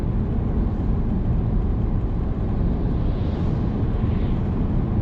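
A car engine drones loudly and steadily while accelerating in fourth gear on a straight road during a driving lesson, a constant close rumble with no pauses.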